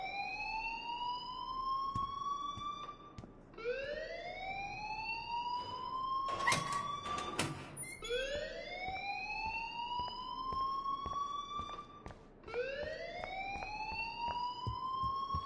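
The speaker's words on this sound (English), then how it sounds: "please turn off that alarm since that's your job" A video game alarm blares in repeated rising sweeps, each tone climbing in pitch for a few seconds before resetting, with a brief burst of clattering noise midway through; loud and continuous, no voices.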